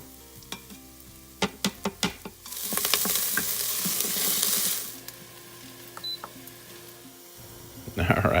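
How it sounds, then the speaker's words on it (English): Garlic hits hot oil in an Instant Pot on sauté mode and bursts into a loud sizzle lasting a couple of seconds, preceded by a few sharp taps and clicks and followed by softer frying. "then I'll add the garlic and let that simmer down for about a minute or so"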